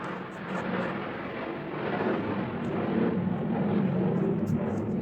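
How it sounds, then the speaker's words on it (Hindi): A helicopter passes overhead during an online computer-networking lesson, a broad low rumble that swells slightly and holds steady throughout, with no speech. "तो यहाँ से हेलीकॉप्टर जाते रहते हैं।"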